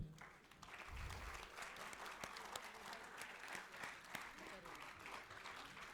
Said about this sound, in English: Let's all greet her with a warm round of applause.